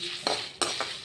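Whole spices, star anise among them, roasting for a beef curry as a spoon scrapes and clinks against the pan, three quick metallic stirs in a short, close burst with no talk.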